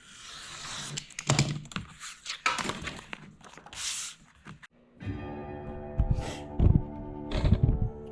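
Roland BN-20 printer cutter cutting a sheet of laminate or vinyl, heard as soft irregular clicks and thunks of the carriage, then a steady mechanical whine with rhythmic knocks, close and fairly quiet with no talk.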